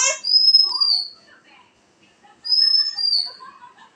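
A bird gives two bright, whistled calls, each a short rising then falling note with a softer trailing flutter, separated by a quiet pause, close and clear with no talking.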